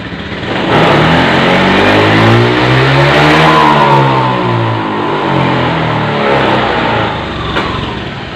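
A Honda Beat FI scooter engine held at full throttle, a loud, close, continuous rev whose pitch climbs and then sags as it loses power and wavers unevenly.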